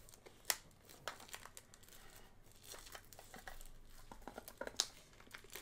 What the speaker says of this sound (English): I'm just trying to rip cellophane